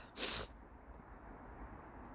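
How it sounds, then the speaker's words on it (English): A single sharp, breathy sneeze bursts out near the start, then quiet room tone follows. "Why am I sneezing?"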